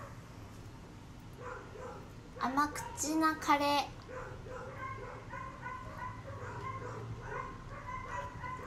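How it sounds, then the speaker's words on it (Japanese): A dog barks in a brief cluster of loud, close yaps and woofs, while a person talks before and after it. "めっちゃ吠えるやん。"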